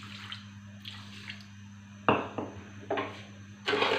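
A few spoonfuls of water pour into sugar in a kadhai, giving short splashy bursts at separate moments over a steady low kitchen hum.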